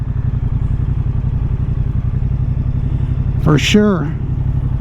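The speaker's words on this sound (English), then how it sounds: "you don't have to give it much gas with all this torque" A 2023 Moto Guzzi V100 Mandello motorcycle engine idles steadily close by with a deep, even throbbing pulse, while a person speaks briefly partway through.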